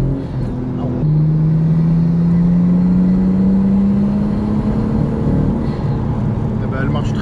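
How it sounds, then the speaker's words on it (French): A Nissan Skyline GT-R, built as a street-racing replica, accelerates in second gear from the cabin, its engine note climbing steadily and loudly for several seconds before the driver lifts off. "Bon, on va faire une petite accel en deux."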